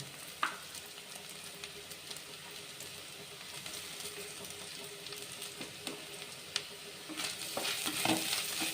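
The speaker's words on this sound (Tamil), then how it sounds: "வெங்காயம் நல்லா வதங்கிடுச்சு இப்போ நம்ம தேங்காயை சேர்த்துக்கோங்க" Chopped onions and grated coconut sautéing in a pan for a Chettinad-style dish, a steady close sizzle and frying hiss with occasional scraping stirs from a spoon, growing a little louder toward the end.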